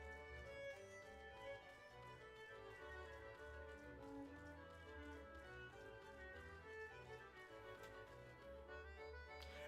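Heavy rain falling in Final Fantasy XIV's North Shroud forest area, a steady, dense patter under a continuous layer of game ambience and music, with no voices.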